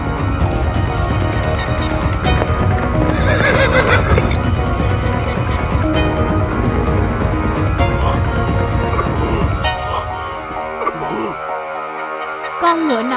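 A cartoon horse gallops with clip-clopping hooves and whinnies in an animated Vietnamese folk tale about a rich man and his horse, mixed with voices and music, ending in a sliding cry.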